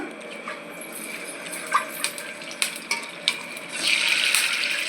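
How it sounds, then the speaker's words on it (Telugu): Chicken leg pieces frying in a home kitchen, a steady sizzle with a few sharp stirring clinks against the pan, swelling louder near the end. "Leg piece fry."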